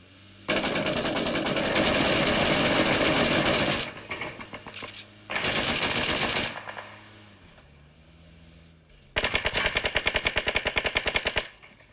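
Gunfire in the battle royale game PUBG, loud bursts of rapid automatic fire separated by short pauses, with a final stretch of distinct fast shots, no voices over it.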